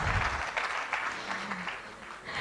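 Audience at an investment summit applauding, a fairly faint, steady patter of clapping hands in a hall that lasts a couple of seconds.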